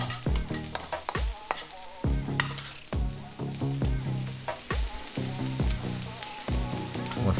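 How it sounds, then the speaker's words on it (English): Garlic frying in a pan as it is stirred, the spoon scraping and clattering in a steady rhythm over continuous sizzle, close and fairly loud with no talking. "let's give that a mix. You know you don't want to burn your garlic"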